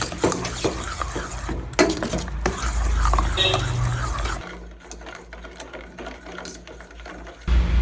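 Pancake batter mixed with sugar in a bowl, a busy close-up clatter of whisking and utensil scraping that loudens midway, then lighter rapid tapping strokes.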